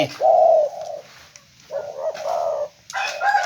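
A bird coos nearby in three drawn-out, throaty calls separated by short pauses.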